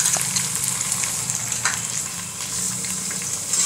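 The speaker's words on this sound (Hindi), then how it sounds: "अब मैं इसमें लहसुन अदरक का पेस्ट डालूंगी," Garlic-ginger paste fries in a pan with tomatoes for a kidney bean curry, giving a steady, close crackling sizzle with small spits and pops throughout.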